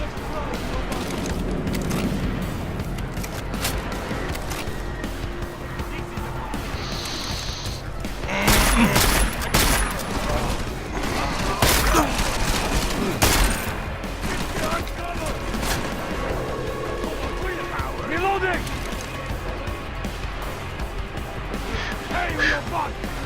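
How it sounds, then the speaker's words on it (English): Machine pistol gunfire in a video game, bursts of rapid shots mixed with booms and mechanical clatter throughout, loud and dense, with a person talking over it. "Oh, I have that machine pistol equipped, that's why."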